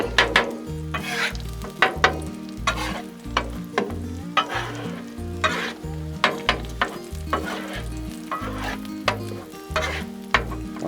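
Eggs with peppers frying on a Blackstone griddle, a close, continuous sizzle under repeated rhythmic scraping and clacks of a spatula as the eggs are mixed, with no talking.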